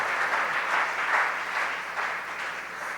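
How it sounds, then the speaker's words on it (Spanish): A church congregation claps loudly and steadily for about three seconds, a dense, even wash of applause with no voices on top. "Dáselo fuerte ese aplauso al Señor Jesucristo."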